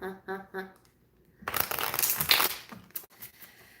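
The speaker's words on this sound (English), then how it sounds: "I'm shuffling these wrong" Tarot cards are shuffled in a burst of dense papery riffling and crinkling lasting about a second, close up, after a few spoken words.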